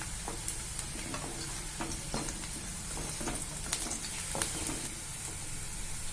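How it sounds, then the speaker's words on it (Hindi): Onions with curry leaves sauté in a pan, producing a faint, continuous crackling sizzle with scattered pops and light stirring scrapes, low in level and steady throughout. "अब इसे 5 मिनट तक सौटे कर लेंगे"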